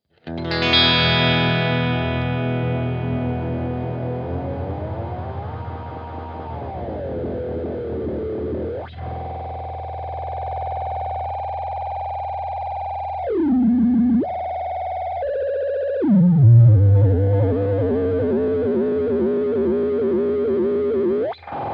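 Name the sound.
guitar pedal delay and modulation effects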